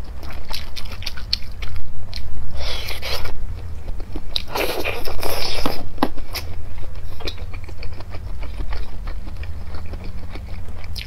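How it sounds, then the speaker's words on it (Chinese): Black pepper chicken sausage being bitten and chewed close to the mic, with repeated crunchy, scraping bites in bursts and no talking. "这个是黑胡椒的鸡肉肠"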